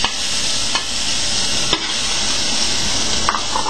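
Ginger fries in butter in a hot pan, a steady bright hiss close by with a few soft stirring clicks, no voices.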